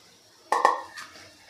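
Boiled potatoes broken up by hand and dropped into a pot of curry, giving a couple of close, sharp clattering knocks against the pot followed by a softer, fading rustle.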